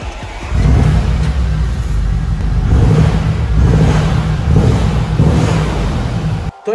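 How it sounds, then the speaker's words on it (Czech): A Porsche 4.2 V8 diesel engine revs loudly up close, with a deep rumbling idle rising into repeated throttle blips and surges before cutting off abruptly at the end. "A teraz sa hlavne pozrieme, alebo skôr vypočujeme, jak to auto znie."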